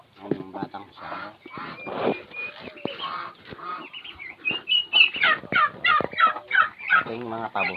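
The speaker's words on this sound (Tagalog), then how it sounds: "Ito yung mga pabo. Malaki na sila." Turkeys on a farm gobble and honk in a loud, busy chorus of rapid warbling calls, close by and continuous, with someone speaking over and between them.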